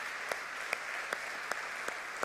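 A church congregation applauding during a sermon, a dense, even clapping from many hands with a few sharper claps standing out at regular intervals, moderately loud and without talk.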